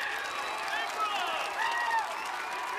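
A spelling bee audience applauds steadily and cheers at moderate distance, a continuous wash of clapping for a young contestant stepping up to spell.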